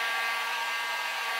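A hot air tool blows a loud, steady rushing stream of air while heating 4-inch PVC pipe to soften it, with no talking.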